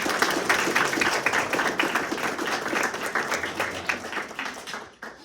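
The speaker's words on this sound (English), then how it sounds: "So we're gonna give you guys another round of applause." A board of education meeting audience gives a round of applause, dense steady clapping from many hands filling the room for about five seconds before tapering off abruptly near the end.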